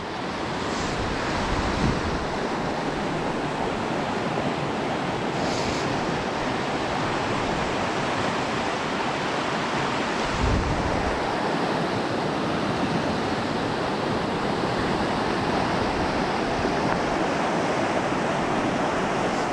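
Steady, loud rush of the Elwha River in high water filling the whole span, a continuous broadband roar with no voices, like a swollen river close by.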